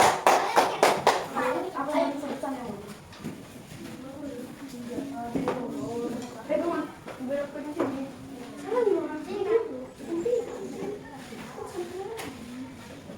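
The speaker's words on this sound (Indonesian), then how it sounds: "Tepuk tangan dulu lah sama kelas 1" Children in a fourth-grade elementary mathematics classroom clap together in a brief cluster of sharp claps at the start, followed by ongoing children's and adults' talk and classroom shuffling.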